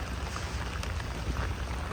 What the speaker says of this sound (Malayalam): നല്ല മഴയും പെയ്യുന്നുണ്ട്.